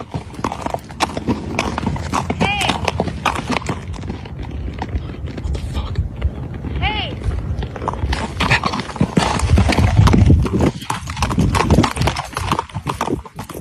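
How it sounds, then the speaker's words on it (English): Horse hooves clip-clopping steadily as a man rides, close and loud, with an occasional whinny-like tone mixed into the rhythmic hoofbeats. "that is a video of a man riding a horse"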